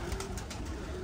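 Racing pigeons coo close by in a low, steady murmur over a continuous hum of background noise, with no voices.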